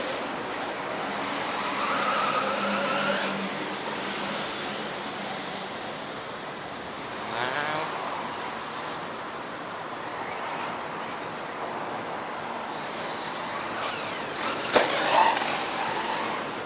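Race car at a motorsport track, its engine noise rising and fading at a distance against constant outdoor ambience, with a louder brief passage near the end.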